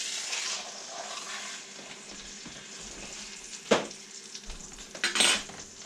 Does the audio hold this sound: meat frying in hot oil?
yes